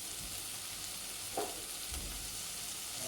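Chopped tomato hits hot oil and spices in an egg curry pan, giving a steady faint sizzle with a brief louder crackle and a stir partway through, no voices.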